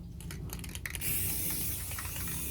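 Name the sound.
spray bottle spraying water and vinegar mixture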